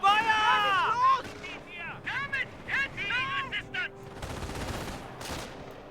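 Rapid bursts of rifle and machine-gun fire crackle through a Company of Heroes battle between American and German Wehrmacht forces, with sniper shots mixed in, under continuous excited voices and a shouted in-game callout.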